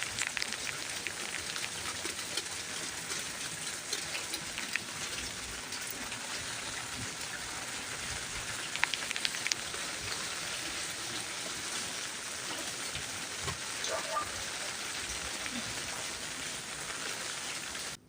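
A heavy tropical downpour in a backyard garden in Portmore, Jamaica, a dense, steady roar of rain drumming on surfaces and containers that continues for the whole stretch without speech.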